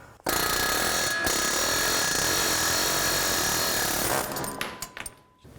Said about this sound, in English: What I'm going to do is just take an air chisel and line this up here and just press it out the rest of the way.